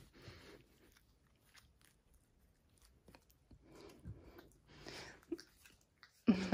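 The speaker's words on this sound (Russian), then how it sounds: "Не надо его жевать." A dog chews and bites on a small object at close range, producing soft intermittent crunching and gnawing bursts with quiet breathing between them, ending in a sharp louder knock.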